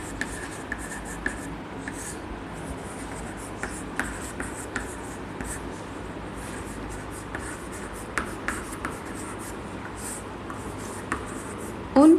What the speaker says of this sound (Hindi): तो आंसर लिखते हैं